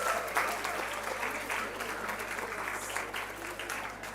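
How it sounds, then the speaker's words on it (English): An audience claps for a guest speaker arriving at a popular science lecture at the Nehru Science Center, sustained, fairly even applause from many hands filling the hall, moderately distant. "So please give him a big round of applause."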